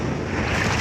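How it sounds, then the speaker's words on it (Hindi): A big ocean wave rolls in toward an island, a loud, broad wash of surf mixed with wind buffeting the microphone. "ये आई बड़ी लहर।"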